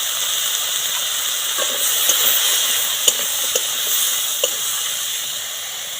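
Eggplant pieces hiss and sizzle in a hot pan with salt, turmeric and chili powder, a steady bright frying hiss with a few faint clicks of stirring, no voices.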